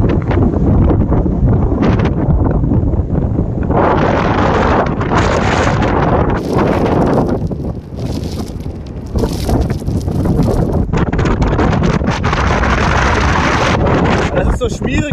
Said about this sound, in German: Hier ist die ganze Zeit Scheißwind und sowas.